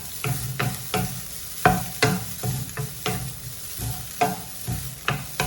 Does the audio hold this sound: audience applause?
no